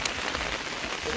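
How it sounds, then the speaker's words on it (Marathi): Heavy monsoon rain driven by wind pours steadily over a village pond and embankment, a dense continuous hiss close by with no clear breaks. "वारो आणि पाऊस एकत्र"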